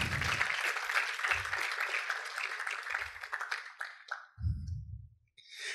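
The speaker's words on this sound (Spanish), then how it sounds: "lo puedan recibir con un fuerte aplauso al matrimonio Cristales" A church congregation breaks into loud applause to welcome the married couple Álvaro and Susan Cristales, dense clapping with a few low thumps, thinning out after about four seconds into scattered claps and quiet.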